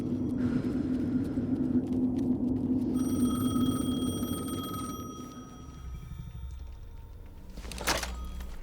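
A telephone rings in the video game Alan Wake 2, a thin, steady electronic ring emerging over low ambient rumble, followed by a brief thump near the end.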